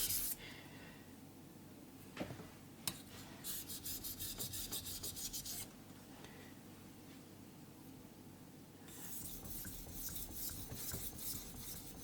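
A VG10 steel blade is worked across an Atago 1000-grit whetstone in steady scraping strokes, quiet and close, with bursts of gritty hiss that come and go.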